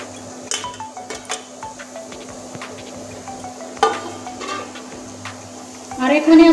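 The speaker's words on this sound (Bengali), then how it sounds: "নারকেলটা এখন ভাজতে থাকবো।" Grated coconut frying in a wok for a sweet coconut ladoo, with scraping stir strokes, metal clinks and a soft sizzle against a steady hum, building to louder stirring at the end.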